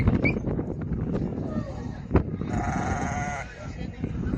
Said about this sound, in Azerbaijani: Ekiz balalı qoyun